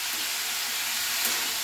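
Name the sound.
stirring frying dried chili and black cumin in pan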